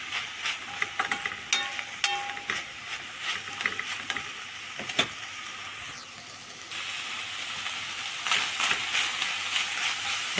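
Onions are stirred and fried in a pan, with rhythmic scraping and clicking utensil strokes over a soft sizzle that swells louder near the end.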